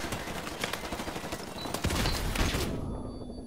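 Rapid bursts of gunfire from Call of Duty 4: Modern Warfare Remastered, steady and fairly loud throughout a close firefight, cutting off abruptly near the end.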